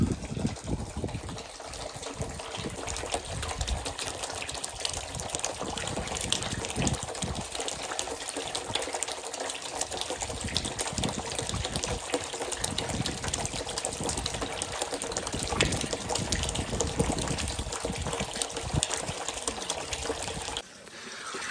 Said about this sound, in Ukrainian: Налив в оприскувач води, ще залишилося налити в теплиці в бочку